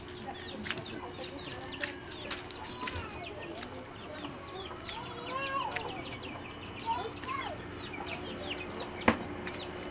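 Chickens cluck repeatedly among other bird calls, a steady flurry of short clucks near and far over a constant low hum, with faint voices now and then in the background.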